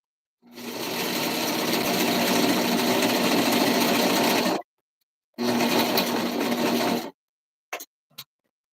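A sewing machine stitches a Valentine's Day outfit in two loud, steady runs, a long one and then a shorter one, followed by a couple of sharp mechanical clicks.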